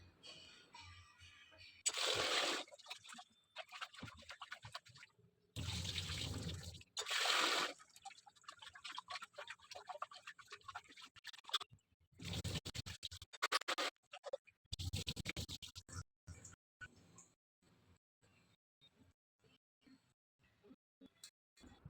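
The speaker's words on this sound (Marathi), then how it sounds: "दोन ग्लास कोलम तांदूळ या ठिकाणी घेतलेले आहेत ते स्वच्छ धुवून घेते" Water sloshing and kolam rice grains rubbing in a bowl, in several loud bursts of rinsing separated by brief pauses.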